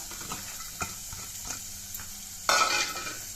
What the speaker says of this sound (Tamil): சேர்த்துட்டு பூண்டை எண்ணெயிலே கொஞ்சம் நேரம் வதக்கி விடலாம்